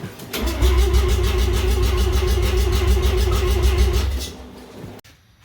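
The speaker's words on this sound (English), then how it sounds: "I want you guys to hear uncapped rotary" A Mazda RX7 rotary engine with an uncapped exhaust fires up and runs loud and raspy at close range with a rapid pulsing beat for about four seconds, then cuts out and falls quiet.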